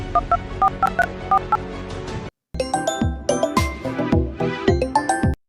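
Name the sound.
telephone dialing tones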